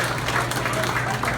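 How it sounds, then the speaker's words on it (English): Applause from an audience at a community event in Houston, a steady dense wash of clapping running through the whole short stretch at moderate level, with a voice faintly audible under it. "we'll give another round of applause to Ms. Alma and Jo Gonzalez, proprietor"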